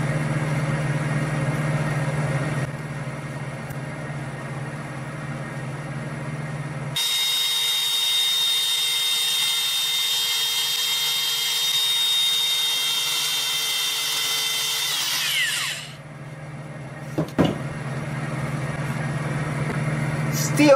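A wood lathe hums steadily as steel wool is pressed against the spinning workpiece, adding a loud, even hiss for about eight seconds before it drops away to the motor drone.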